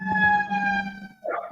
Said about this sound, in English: I said by the hospital or fire service, that ambulance always going off.